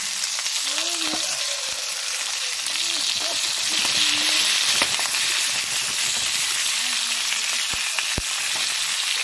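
Paella ingredients fry in a wide pan over a strong wood fire, a steady close sizzle and hiss with faint stirring scrapes and a few sharp crackles from the fire, no one talking.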